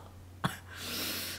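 A single short cough, close and abrupt, at a playground in Malaysia, followed by a soft rushing breath.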